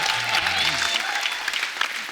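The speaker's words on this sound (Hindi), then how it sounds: "शुभ मंगल ज्यादा सावधान के लिए एक बार जोरदार ताली हो जाए" Studio audience applause on The Kapil Sharma Show, a loud burst of clapping from a crowd lasting a couple of seconds and fading slightly toward the end.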